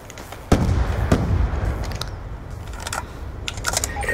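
Gunfire in Black Ops 2, sharp cracking shots arriving in irregular bursts, the loudest up close near the start and lighter rapid reports later over background game noise.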